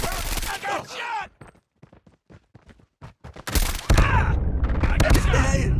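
Gunfire in a Call of Duty Mobile deathmatch: sharp shots with brief quiet gaps, then dense continuous bursts of automatic fire. A voice talks near the start.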